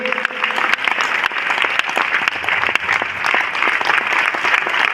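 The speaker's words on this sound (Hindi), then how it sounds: "फिर से जोरदार ताली होना चाहिए धर्मशिला मैडम और सुरेंद्र सर के लिए।" Loud, steady applause from an audience honoring two teachers, many hands clapping together with sharp individual claps standing out from the dense wash.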